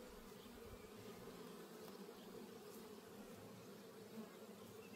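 Many honeybees buzzing around a beekeeper at an open hive, a close, continuous drone with wingbeats passing near, steady and fairly quiet with no talking.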